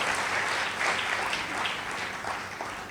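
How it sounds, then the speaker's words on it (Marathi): Audience applause at a public lecture, a dense, steady wash of clapping that stays loud and even throughout. "आपण एकदा टाळ्या वाजवून त्यांना सपोर्ट करूया"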